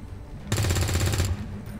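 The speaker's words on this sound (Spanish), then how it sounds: "El disparo no ha dado." Gunfire from a soldier's weapon in the turn-based tactics game XCOM 2, a single loud burst of rapid shots lasting under a second, with a low rumbling tail and game ambience before and after.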